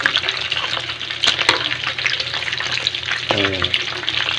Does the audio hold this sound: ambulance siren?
no